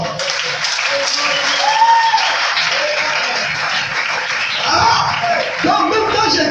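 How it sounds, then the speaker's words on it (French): Sustained audience applause and cheering fills a church or religious gathering in a French-language sermon, a dense, steady wash of clapping that swells and holds for several seconds with crowd noise throughout. "Acclamons très fort."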